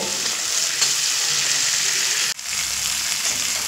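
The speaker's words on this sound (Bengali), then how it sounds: "আর কালারের জন্য দেব হলুদ, দিয়ে খুব সুন্দর করে মশলাটা কষিয়ে নেব।" Spice masala with turmeric fries and is stirred in oil for a fig chop filling. A loud, dense sizzle hisses continuously up close, dipping briefly once midway before resuming at full strength; no talking.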